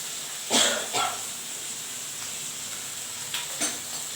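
Broad beans with garlic, tomato and chili powder sautéing in a pan, a soft low sizzle with a few sharper bursts and stirring scrapes near the start and end, close by with no talking.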